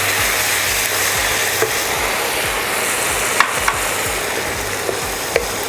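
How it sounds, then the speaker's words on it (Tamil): Onion and cashew paste fries in oil for shahi paneer, a dense bubbling sizzle with low rhythmic scraping strokes underneath and a few sharp clicks of a utensil against the pan, no speech. "இந்த வெங்காயம் நல்லா ப்ரௌன் கலரில் ஃப்ரை ஆகணும்"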